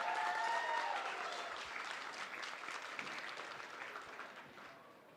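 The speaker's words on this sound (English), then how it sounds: "So let's give Lavina a round of applause." Wedding guests applaud at a reception, a dense wash of many hands clapping that starts full and slowly fades over several seconds, heard at moderate distance without talk.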